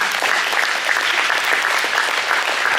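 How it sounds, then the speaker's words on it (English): Audience at a high school post-prom event breaks into steady, continuous clapping that fills the room, a dense even patter of many hands held at a constant level for the whole stretch. "Give them a big round of applause"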